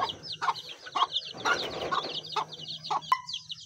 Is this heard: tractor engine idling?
no